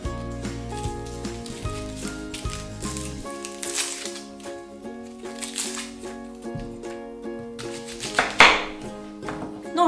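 Quick knife strokes chop onions on a board in an irregular rhythm, with tonal background music underneath.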